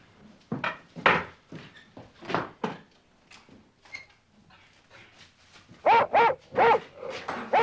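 Dog barking in a radio drama of a Sherlock Holmes horse-racing mystery, several sharp, fairly close barks in a cluster near the end, following muffled knocking and thuds.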